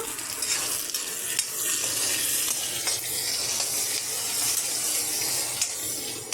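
Onion frying in hot oil while being stirred in a pan, a steady close sizzle with scraping stir strokes throughout, no talking, during a home cooking session for coconut pulao.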